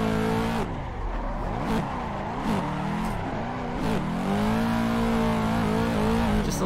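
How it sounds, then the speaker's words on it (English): A race car engine in a driving video game, held at high revs with repeated clutch kicks: a loud, continuous, buzzing engine note that dips and surges several times and then holds steady. No one talks. "It's a clutch kick."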